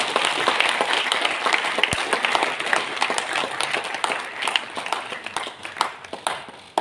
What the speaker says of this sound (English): Please, a huge round of applause again.